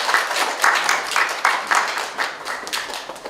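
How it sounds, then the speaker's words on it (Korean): An audience at an art forum in Korea claps steadily in warm applause, dense and fairly loud, with no voices over it. "여러분 기쁜 마음으로 행복한 마음으로 박수 쳐주시면 감사하겠습니다"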